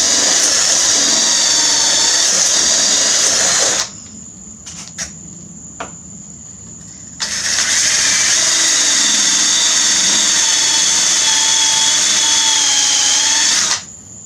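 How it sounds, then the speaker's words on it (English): A power drill bores through a steel coupling fitted on a piece of pipe during a zero-turn mower crankshaft oil seal repair. Two long, loud, steady whining runs are broken by a pause with a few small clicks. "I took this piece of pipe, I put this coupling on it, I drilled through the coupling, and I was able to cut out some of that meat."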